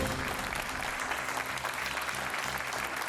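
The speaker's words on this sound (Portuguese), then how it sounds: "O vosso aplauso para o Diogo Antunes!" A TV game-show studio audience applauds steadily for about three seconds, a dense continuous wash of clapping at moderate level, with no talk standing out.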